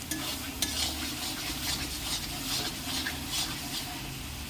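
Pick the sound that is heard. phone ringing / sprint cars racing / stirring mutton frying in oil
stirring mutton frying in oil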